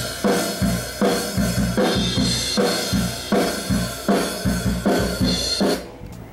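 A drum kit recorded raw, straight from the microphones in a home studio, plays a steady repeating groove of kick, snare and cymbals. It is close and loud with no talking.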